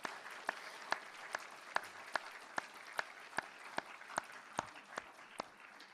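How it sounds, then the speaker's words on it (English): A graduation crowd at a doctoral cording ceremony applauds its School of Education graduates, producing a fairly quiet, steady wash of clapping with sharp individual claps standing out from the even applause. "Could we have one more round of applause for our graduates?"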